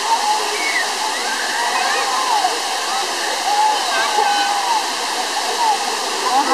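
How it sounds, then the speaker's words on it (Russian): Sai Yok Noi waterfall in Thailand, a loud, broad rushing roar of falling water that never lets up, with people talking faintly over it. "Водопад."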